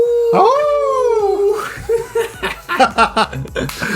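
A group of people imitates a wolf howl, one long rising and falling voice joined by others, then breaks into chuckles and laughter.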